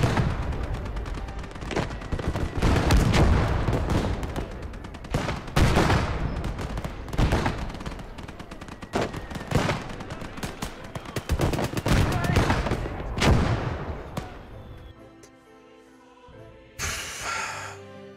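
Roof-mounted machine gun fire in the WWII strategy game Gates of Hell: loud, dense bursts of rapid shots with heavy booms, continuous for most of the stretch, then thinning out with a final sharp burst near the end.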